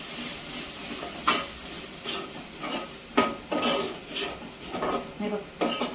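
Ground spice paste fries in hot oil in a pan and is stirred, with a steady sizzle and repeated scraping and clinking of the spoon against the pan, close and clear, with no speech.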